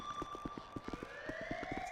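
A prison alarm in GTA V FiveM roleplay, a siren-like electronic tone with a steady high whine and rapid pulsing beeps repeating rhythmically, loud and continuous with no talk.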